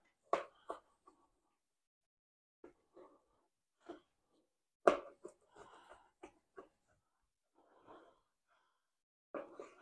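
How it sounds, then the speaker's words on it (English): A sharp knife slices cold pork belly into strips, making faint, scattered scraping and tapping cuts separated by quiet gaps. "I'm going to take the strip. I'm going to cut them into strips first."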